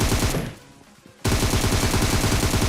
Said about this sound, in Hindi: एक ही गोली की साउंड आई थी